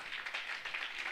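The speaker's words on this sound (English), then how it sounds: "Let's clap." Audience clapping in a hall at a youth employability forum as the SRC Vice President is introduced, a steady, moderately quiet patter of applause with no talk over it.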